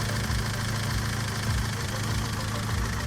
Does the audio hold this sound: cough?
no